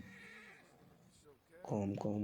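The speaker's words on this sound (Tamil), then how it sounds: "calm down approach a horse" A horse whinnies loudly and close in the Red Dead Redemption 2 video game, a short shaky neigh at the end following quieter moments with someone speaking.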